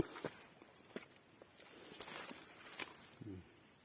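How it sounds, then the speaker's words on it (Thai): Footsteps walk up a shallow stream channel in a forest, a few soft irregular steps on wet ground and stones, fairly quiet against faint outdoor ambience. "จะเดินตามร่องน้ำนี่ขึ้นไปนะครับ"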